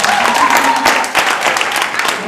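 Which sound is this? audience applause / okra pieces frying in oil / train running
audience applause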